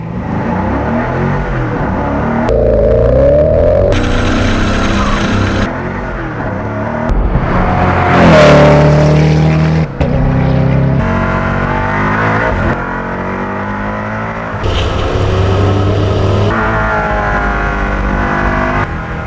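A $3 million sports car is driven hard on a track, its engine roaring loud and close through repeated gear changes, revs climbing and dropping with tire noise, and no voices.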